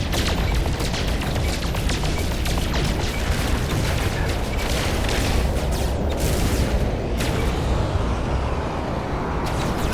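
Weapon fire against attacking enemy ships in the space game Corvettes, a dense continuous barrage of blasts and booms with sharp bursts standing out, loud throughout.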